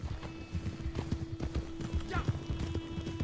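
Horse hooves clip-clop at a gallop in the Red Dead Online video game, a fast steady rhythm close by, with game effects and a brief whinny mixed in and some voices talking over it.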